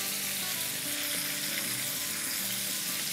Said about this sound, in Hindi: अब इसी तरह से हम इनको भी 4 मिनट के आसपास फ्राई कर